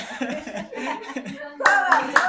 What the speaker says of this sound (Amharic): ጎበዝ አጨብጭቡለት፣ አጨብጭቡለት